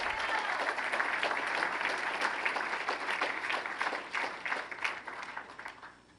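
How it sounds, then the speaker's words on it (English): Gala audience applauding honorees at an award presentation: a full room of sustained clapping, loud and dense at first, then thinning and fading toward the end. "a round of applause for Yael and for Marcia Fudge"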